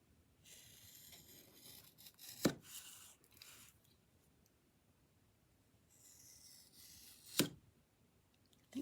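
A dull craft knife scrapes and saws through foam for a fabric printing block, with two rough cutting strokes and sharp snaps between them, close and quiet.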